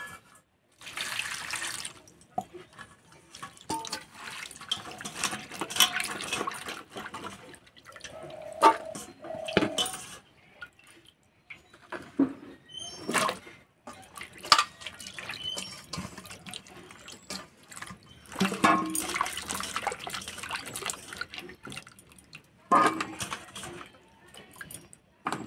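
Rohu fish being rinsed clean under a running kitchen tap, with water splashing and trickling into a sink in uneven bursts and a few drips, fairly quiet and with no voices.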